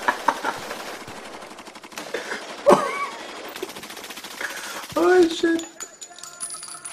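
Gunfire in a video game: bursts of rapid machine-gun shots and bullet whizzes come in uneven clusters, loud in spots, mixed with game effects and someone talking over it.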